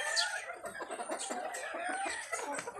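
Roosters and hens on a farm, with clucking and short crowing calls overlapping at moderate distance against a steady outdoor background.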